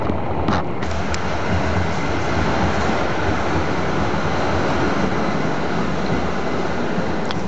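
A tram pulls into Mülheim Ruhr main station with a steady broad rumble of wheels on rail and a few sharp clicks early on, loud and continuous with no talking.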